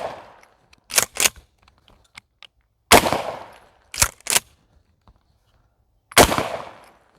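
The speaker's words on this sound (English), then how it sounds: "Here we go with the Mossberg 500." Mossberg 500 shotgun fired outdoors, with sharp loud blasts in spaced pairs and singles, about seven shots across several seconds, each with a short ringing tail and silence between.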